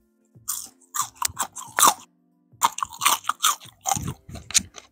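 Bites into crunchy chilli crisp smashed potatoes, two clusters of sharp crackling crunches and chewing separated by a brief pause, very close and loud, with no talking.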